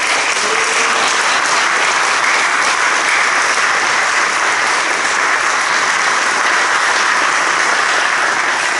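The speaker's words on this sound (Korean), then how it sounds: "장효수 목사님을 큰 박수로 모시도록 하겠습니다." Loud, sustained applause fills a hall at a church denomination's general assembly candidate forum as a vice-moderator candidate is welcomed, an unbroken roar of many hands clapping at an even intensity throughout.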